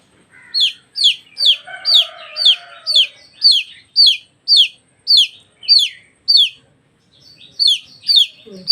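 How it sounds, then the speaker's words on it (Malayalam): A young chick on a poultry farm gives a rapid series of sharp, high peeps at an even pace, about a dozen or more close together, followed by a short pause and a few more. A brief lower chirping sounds underneath early on. "മാത്രം പ്രായമായ കോഴിക്കുഞ്ഞ് ഉഷാറായിരിക്കുകയാണ്"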